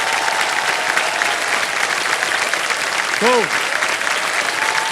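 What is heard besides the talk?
studio audience applause on game show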